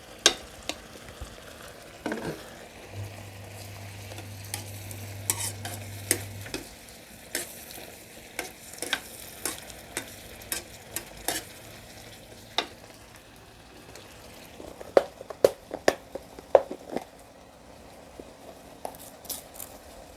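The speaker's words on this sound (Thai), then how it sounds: "เราก็รวนนะคะ รวนให้น้ำแห้งก่อนค่ะ" Chopped pork ribs with holy basil are stir-fried in a pan to cook off the liquid, giving a quiet ongoing sizzle broken by sharp scraping and clinking strokes of the spatula, with a brief low hum partway through.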